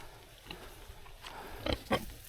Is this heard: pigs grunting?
yes